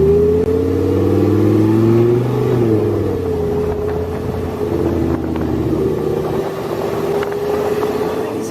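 Lamborghini supercar engine revving while driving, a loud steady drone with rising then dropping pitch as it shifts gears, with no talking.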